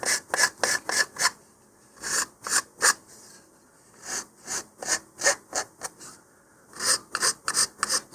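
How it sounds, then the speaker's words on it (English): Rapid back-and-forth rasping strokes of a hand file on a small model rocket part, coming in short bursts with brief pauses between, close and fairly loud. "you can use a file to kind of shape those"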